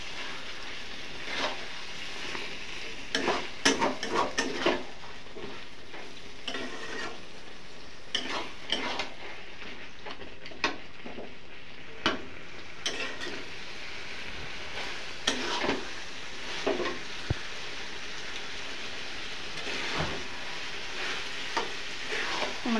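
Chicken pieces stir-fried with spices in a pan for Bengali chicken kosha: a steady, close sizzle with intermittent scraping and clicking from a spatula stirring the meat, and no talk.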